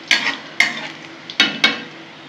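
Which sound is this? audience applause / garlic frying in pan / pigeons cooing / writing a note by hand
garlic frying in pan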